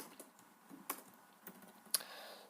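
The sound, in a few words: computer keyboard typing while writing CSS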